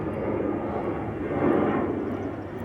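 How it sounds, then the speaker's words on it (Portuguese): An airplane passing overhead, a steady broadband engine roar that swells slightly toward the middle and then eases, continuous throughout with no talk. "Avião passando."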